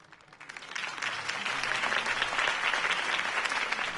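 A crowd at a campaign rally for Harvey Dent in Batman: The Telltale Series bursts into applause, swelling within the first second to a sustained, fairly distant roar of clapping.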